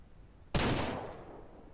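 A single loud gunshot fired at a deer during a hunt in the Ranch Simulator video game, a sharp close crack after brief quiet that trails off into a fading echo.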